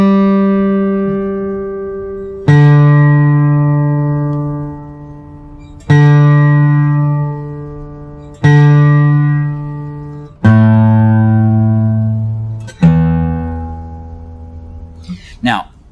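Guitar strings are plucked one at a time during tuning, six separate notes spaced a few seconds apart, each ringing out and slowly fading, close and clear with no talking.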